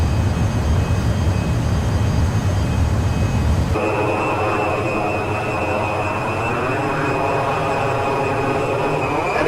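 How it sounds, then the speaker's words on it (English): Jet engines of an SR-71 Blackbird in a flight video game roar as a steady, loud, broadband drone, with a sharp shift in tone partway through as the sound becomes more muffled and tonal. "You hear the engines when we get back inside. They've gotten a lot more noisy"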